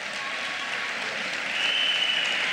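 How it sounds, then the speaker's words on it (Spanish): At the Miss Continente Americano 2008 pageant, a crowd applauds in a continuous, moderately loud wash of clapping that swells slightly toward the end, with no voices over it. "Un fuerte aplauso para todos ellos."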